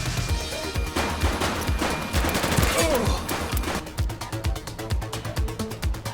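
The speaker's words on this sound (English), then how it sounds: "He's shooting!" Rapid bursts of gunfire in the police video game The Precinct, a dense volley of overlapping shots that thins into a steady rhythmic rattle of repeated rounds, with a voice shouting over the fighting.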